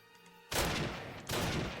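Two loud, close blasts of gunfire from Call of Duty (2003) erupt after a quiet moment, each a broad sustained burst, the second following about three-quarters of a second after the first, with no talk.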